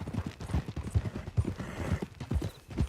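Hollow horse hoof clip-clops from the video game Red Dead Redemption 2, in a steady walking rhythm, close and fairly loud, with faint background ambience and no talk.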